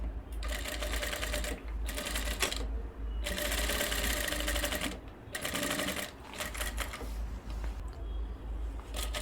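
A sewing machine runs a quarter-inch seam along the fabric of a kurti's coat collar, stitching in loud, close bursts of rapid rattling broken by short pauses.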